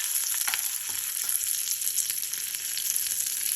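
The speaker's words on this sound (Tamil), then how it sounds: "எண்ணெய் கொஞ்சம் சூடானோடனே கடுகு போட்டு, கடுகு பொரிஞ்சதுக்கப்புறம் கொஞ்சமாக கருவேப்பிலையும் பச்சை மிளகாவும் அதில் போட்டுக்கோங்க" Mustard seeds, curry leaves and green chillies frying in hot oil, giving a loud, dense, unbroken sizzle and crackle heard close up with no voices.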